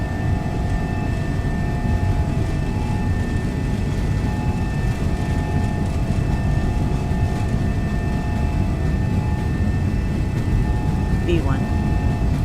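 Simulated MD-11F cargo jet engines spool at takeoff thrust in X-Plane, a steady dense roar with thin whining tones throughout, while a voice speaks over it.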